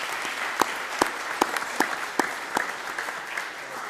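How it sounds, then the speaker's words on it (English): Modest applause from a small audience at a college district board meeting, a steady patter of clapping with a few louder nearby claps standing out at regular intervals. "So if you can all please join me in a round of applause for Janice Quinn Wyatt."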